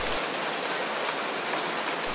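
Light rain falling in a town in Temanggung, Central Java: a dense, even hiss of fine drops pattering on surfaces, steady and continuous, with no voices.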